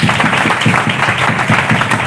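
A church congregation at a Hindi thanksgiving service claps for Jesus, a dense, loud and steady roar of many hands clapping together with a faint rhythmic pulse, heard close with no speech over it.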